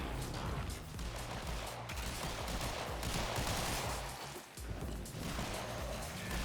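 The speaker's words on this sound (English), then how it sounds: "So I can just kind of let some explosions happen for a bit." Dense, continuous gunfire and explosions from the Warframe video game, with heavy rapid crackling bursts and booming low rumble throughout, loud and unbroken apart from a brief dip near the middle, no talk.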